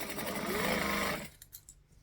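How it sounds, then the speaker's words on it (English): A sewing machine stitches in a fast, steady mechanical whir for about a second, then stops, leaving faint clicks and handling noises. "The more you sew, the more in tune with your sewing machine you are, and you can hear it go."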